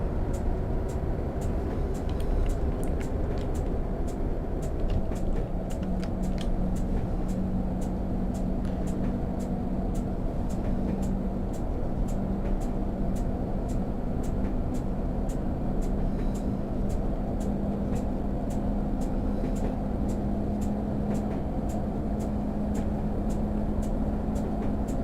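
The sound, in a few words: Class 101 DMU train engine in Train Simulator video game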